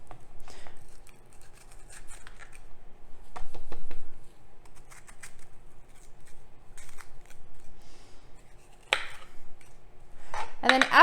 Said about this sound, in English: I'm going to cut them open, cut them in half, and de-seed and cut the membranes out